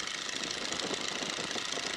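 Boeing N2S-3 Stearman biplane radial engine throttled back to a steady cruise, giving a continuous droning, slightly knocking rumble heard close up inside the open cockpit, with no talking.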